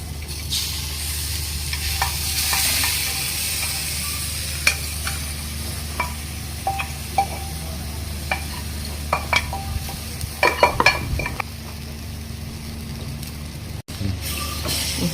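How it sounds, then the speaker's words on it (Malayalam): Cooked mutton stirred into browned masala on a low flame for a Tamil Nadu style mutton curry: a steady loud sizzle with repeated spoon scrapes and clicks against the pan, growing busier toward the end. "അപ്പോൾ ഇത് നമ്മൾ ഇങ്ങനെ മട്ടൻ ഇങ്ങനെ മിക്സ് ചെയ്തിട്ട് ഒരു അഞ്ച് മിനിറ്റ് ലോ ഫ്ലെയിമിൽ ഇങ്ങനെ ഇതിനെ വേവിക്കാം"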